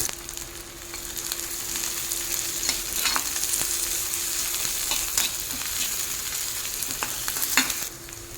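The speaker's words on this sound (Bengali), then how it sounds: "এখন এই গরম তেলের মধ্যে দিয়ে দেবো ঝাপ চেরানো কাঁচা লঙ্কা আর পেঁয়াজ কুচি।" Green chillies and chopped onion frying in hot oil: a steady, close sizzle with scattered crackles and pops and occasional stirring scrapes, continuous throughout with no talking.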